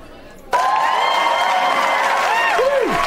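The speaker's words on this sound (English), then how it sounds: "Let's give you some applause." A crowd breaks into sudden loud applause, cheering and whooping at a podcast recording, sustained dense clapping with shouts and whistles layered over it.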